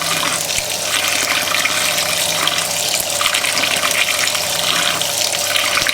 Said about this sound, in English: Filling with water.